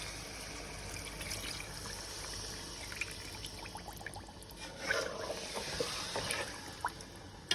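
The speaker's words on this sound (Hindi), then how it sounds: "अब इसमें मैं पानी शामिल कर देती हूँ जितना हमें शोरबा चाहिए" Water poured into a pot of fish curry masala, with the fried fish sitting in the spice paste, making a soft, steady trickle that swells and splashes more near the end.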